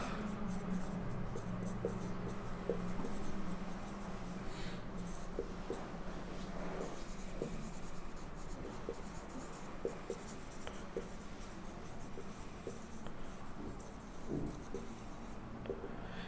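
A pen writes out a maths definition of perfect square numbers, making continuous close scratching and tapping strokes over a low room hum, with faint speech at times.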